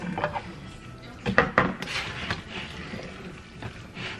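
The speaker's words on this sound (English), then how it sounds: "And we're just stirring it all up so it has um, a good covering on all." A spoon scrapes and knocks against a bowl while a keto recipe mixture is stirred, giving a few close, uneven rubbing strokes and clinks over quiet background.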